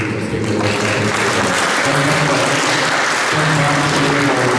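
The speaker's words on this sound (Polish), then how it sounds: "Wielkie brawa" Dense, steady applause from a crowd at an outdoor monument unveiling ceremony for Countess Gabriela Thun-Hohenstein, loud and continuous from start to finish.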